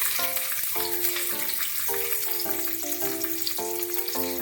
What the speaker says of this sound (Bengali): এবার চিকেন ভাজার তেলের মধ্যে পেঁয়াজটাকে ভেজে নেব।